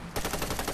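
Gunfire in Medal of Honor: Warfighter multiplayer on the Al Fara Cliffside map: a fast automatic burst breaks out after a brief quiet moment, with rapid, dense shots running without a break to the end, loud and close.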